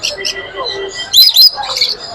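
Caged birds at the Mirpur-1 bird market chirp, tweet and squawk in quick overlapping bursts, loud and close, with a sharper cluster of shrill calls in the middle.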